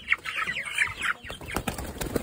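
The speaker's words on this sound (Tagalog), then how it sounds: "Live na live po yan. Buhay na buhay ang ating manok." A live chicken clucks and squawks in a rural Philippine setting, with irregular nearby calls and some rustling or wing flaps, and no talking.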